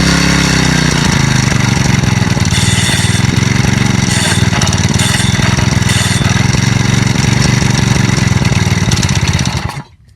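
A lawnmower engine that has been abused in durability testing catches and runs loud and steady for about nine seconds at a rough, throbbing idle, then cuts off abruptly at the end.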